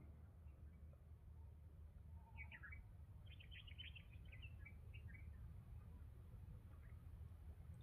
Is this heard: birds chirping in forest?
yes